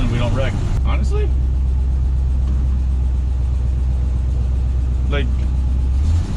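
A Chevrolet K10 truck under restoration, fitted with new shocks, drives along with a steady low engine rumble heard from inside the cab, loud and continuous, while someone talks briefly.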